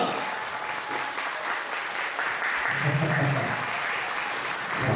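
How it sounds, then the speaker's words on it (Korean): A wedding audience claps continuously, a warm, sustained round of applause from many people, with some voices murmuring underneath. "여러분 따뜻한 환영의 박수 부탁드립니다"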